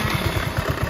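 A motorcycle engine on a workshop bench idles close by with a quick, regular low thumping pulse, a brief steady burst of running with no talk over it.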